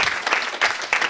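Brief burst of audience clapping for a vocal coach at a televised academy talent show, dense and lively, swelling in quick waves over about a second.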